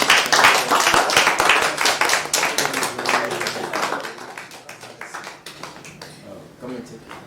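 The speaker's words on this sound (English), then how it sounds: "let's give ourselves a round of applause" A small group of contestants gives themselves a round of applause, with distinct hand claps that are loud and busy at first, then thin out and fade into scattered claps over several seconds.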